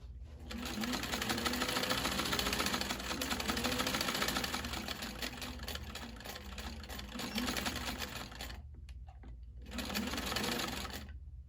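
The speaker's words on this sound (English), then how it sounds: "what we're gonna wanna do is that back stitch so we hold our stitch right in place" A sewing machine back stitches the seam of a fabric scrunchie with a loud, close, steady mechanical whir. It halts briefly near the end, then starts up again for a short final burst.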